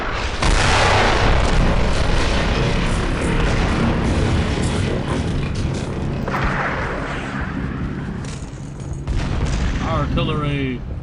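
Heavy artillery bombardment in a World War II shooter game: dense, continuous booms and rumbling blasts of shells fall close by, with gunfire crackling throughout and a voice talking over parts of it.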